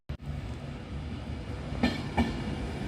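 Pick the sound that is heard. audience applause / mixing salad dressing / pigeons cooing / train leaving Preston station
train leaving Preston station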